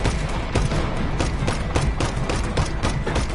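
Dense gunfire in the video game Just Cause 3, a loud, continuous rattle of overlapping shots and bursts with no letup.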